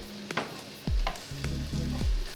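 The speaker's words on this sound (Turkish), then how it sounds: "Sonra iyicene karıştırıyorum" A potato mixture seasoned with cumin and salt is stirred by hand in a bowl, giving a few close scraping and squelching strokes. Dull knocks sound in between, and no one speaks.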